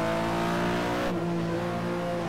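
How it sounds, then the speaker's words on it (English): A Porsche sliding sideways in the rFactor racing game, its engine droning loud and steady with a strong harmonic whine, the pitch shifting partway through as the car drifts. "Just love to go sideways in a Porsche on this track."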